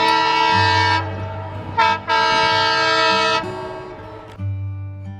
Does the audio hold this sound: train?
yes